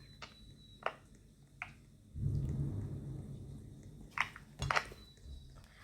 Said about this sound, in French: on a entendu l'orage horrible